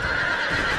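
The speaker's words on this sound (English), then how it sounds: "Their horses are coming straight at us." Horses neighing during a battle in the video game Empire: Total War, a brief, loud, steady whinny with no voices over it.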